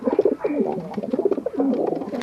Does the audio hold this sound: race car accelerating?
no